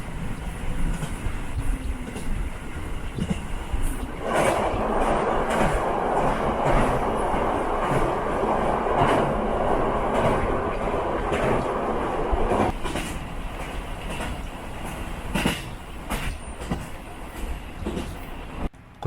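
Single-car local train running on the Rumoi Main Line in Hokkaido, steady rumble of wheels with rhythmic clickety-clack from the rail joints and a louder roaring stretch midway.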